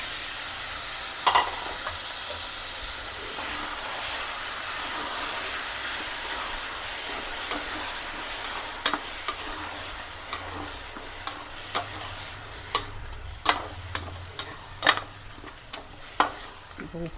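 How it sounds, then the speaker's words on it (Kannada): Soaked mutton with fresh mint sizzles steadily in a hot pan for a mutton pulao, with repeated scraping clicks of a spoon stirring through it, close and continuous, growing busier toward the end. "ಈಗ ಮಟನ್ ನೆನೆಸಿಟ್ಟಿದ್ವಲ್ಲ ಹತ್ತು ನಿಮಿಷ ಆಗಿದೆ ಅದು ಸೇರಿಸ್ತಾ ಇದ್ದೀನಿ"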